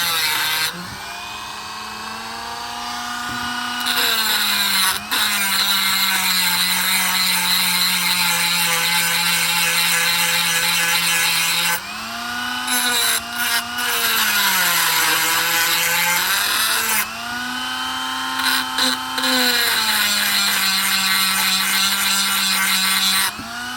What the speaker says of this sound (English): I'm just going to take one of these grinding wheels, and I'm just going to grind a little bit of the front.